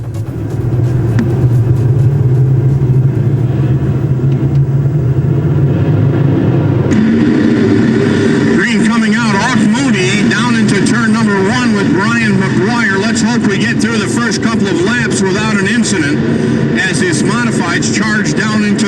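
ACT late model stock cars race around an oval track, a loud, continuous roar of engines that swells as the pack charges into a turn, heard under constant excited race commentary.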